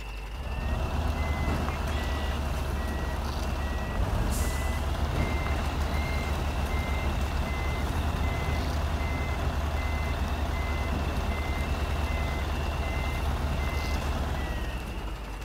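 A truck in the MudRunner video game backs up, its reversing alarm beeping at a steady regular rhythm over a loud continuous engine drone for about fifteen seconds.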